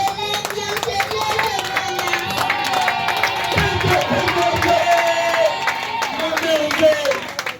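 Applause and cheering from an audience at a festive closing celebration for International Women's Day, a steady wash of clapping and crowd noise with music and voices mixed in throughout.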